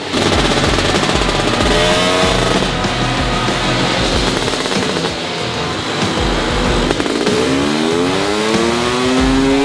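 A carbureted engine with no carb tuning revs hard on a dyno bench, a loud, continuous roar whose pitch climbs in sweeping rises, dips briefly mid-run, then surges again to a high wail, with no voices.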